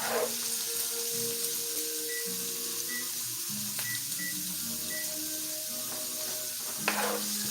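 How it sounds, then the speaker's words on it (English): Spiced potatoes frying in a skillet while being stirred, a quiet steady sizzle with occasional scrapes and light clinks; faint background tones sit underneath. "we are going to go ahead and stir this for about 4 minutes"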